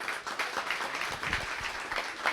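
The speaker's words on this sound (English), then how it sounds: "big round of applause for Chase Palmieri and his team at Credder" Audience applause for a startup founder and his team after a talk, a steady wash of many hands clapping at moderate distance, continuous for a few seconds with no voices over it.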